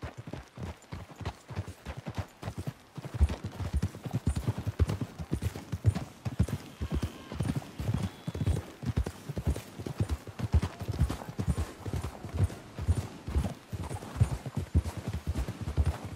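Horses galloping in the video game Red Dead Redemption 2, a steady, rapid clip-clop of hooves running throughout at moderate volume, with faint voices and ambient game sounds in the background.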